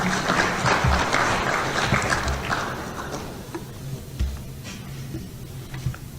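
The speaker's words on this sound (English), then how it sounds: "Can I please give him another round of applause?" An audience at a workshop on investing through the Ghana Stock Exchange applauds, a dense patter of clapping that fades over a few seconds into scattered, isolated claps.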